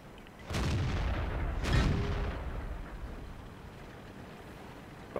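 Two heavy tank cannon shots in World of Tanks near a Centurion, booming blasts about a second apart followed by a long rumbling decay, with no talk.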